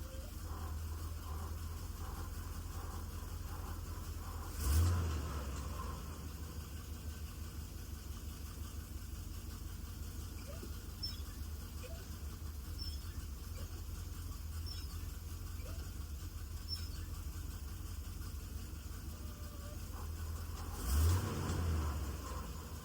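C3 Corvette engine running in first gear, a steady low mechanical drone throughout with two brief louder surges near the start and end, no talking.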